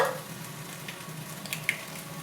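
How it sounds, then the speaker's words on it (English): Three eggs fry in a pan for chorizo breakfast burritos, giving a steady soft sizzle with a couple of small clicks near the end, close and with no talking. "now we're going to make our 3 eggs."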